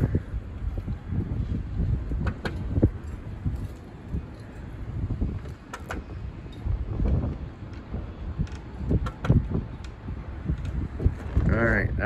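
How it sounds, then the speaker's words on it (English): Strong gusts buffet the microphone outdoors beside a 2022 Kodiak 283BHSL travel trailer, a rumbling, uneven roar that rises and falls under people talking throughout. "Yeah, it's really windy"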